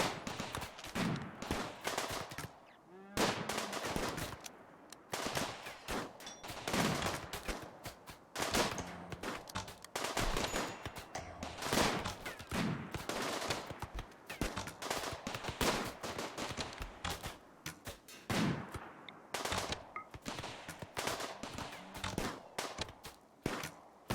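Rimworld video game gunfire: rapid bursts and rattling volleys of shots that continue almost without pause for over twenty seconds, loud and dense, with no talking.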